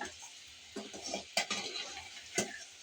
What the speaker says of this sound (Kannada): ಸ್ವಲ್ಪ ಬಿಟ್ಟು ತಿರುವಿ ಹಾಕ್ಕೊಳ್ಳೋಣ ನೋಡಿ ಈ ಥರ